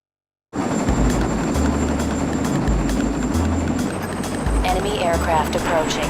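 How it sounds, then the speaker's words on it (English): Enemy aircraft approaching in the video game Armored Core: Silent Line, a loud helicopter-like rotor drone that starts abruptly and holds steady, with a throbbing engine pulse underneath and radio voices speaking over it. "Enemy aircraft approaching. Don't let any of them land."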